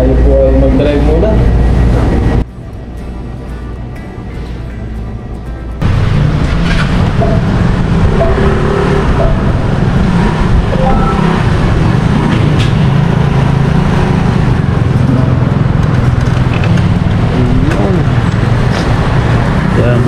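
Car interior on a road in Taiwan, with loud continuous low engine and tire rumble. The noise briefly dips, then resumes. A person speaks over it now and then.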